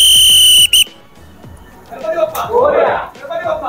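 A coach's whistle at Dahi Handi practice gives a loud, shrill blast that cuts off, then a short second toot, followed by a crowd chattering and calling out.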